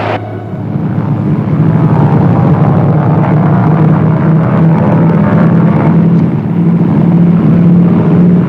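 A steady, loud propeller-plane engine drone fills the scene as the aircraft gets away, a constant throbbing hum with no talk over it.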